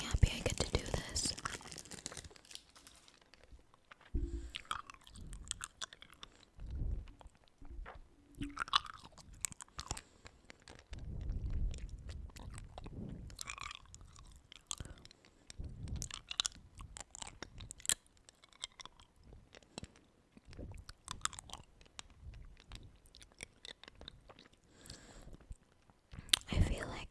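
Hard candy eaten up close: quiet wet mouth clicks, sucking and occasional crunches with wrapper crinkles, soft and intermittent, with whispered soft-spoken talk between the sounds.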